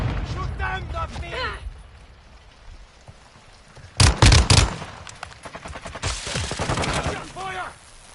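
Gunfire in the video game Modern Warfare 2 DMZ, with a loud burst of rapid shots in the middle and more scattered fire later, mixed with voices talking.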